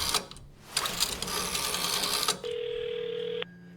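A steady electronic phone tone rings for about a second in the horror video game White Night, following a stretch of busy, noisy game sounds.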